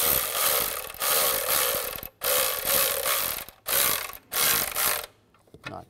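Mechanic's ratchet tightening ignition coil bolts on a 2005-2010 Chevrolet Cobalt engine, loud rapid clicking in four bursts separated by short pauses, close up, with no talking.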